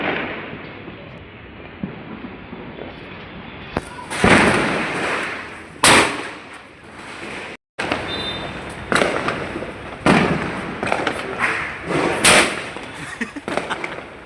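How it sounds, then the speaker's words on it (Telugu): Diwali fireworks and firecrackers bursting in a series of loud, sharp cracks and booms, some near and some farther off, with faint crackling between blasts. "టపాసులు చాలా కొనుక్కొని వచ్చాం సెలబ్రేట్ చేయాలని"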